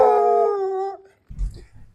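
Dogs howl and bark: a long wavering howl trails downward, then a few low, rough barks follow close by.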